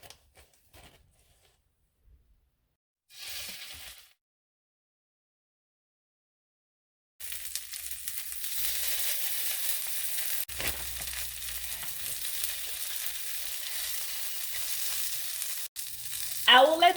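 Turkey bacon fries in a pan with a steady crackling sizzle that starts abruptly after some quiet handling noises. It holds at a moderate level with a brief clatter partway through.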